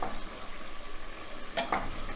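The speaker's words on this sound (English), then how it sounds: "We're deep frying it." Marinated tofu deep-fries in oil for tortilla-style tacos, giving a continuous soft sizzle with a few brief clinks and stirring sounds near the end.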